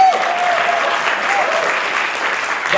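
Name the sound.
audience applause for Manu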